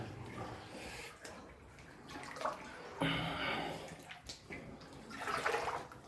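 Belly-deep water sloshing and churning as someone wades through the flooded Sztolnia No. 1 mine adit at Wojcieszyce. Uneven surges of splashing swell and fade close by in a hollow underground space, with no talking.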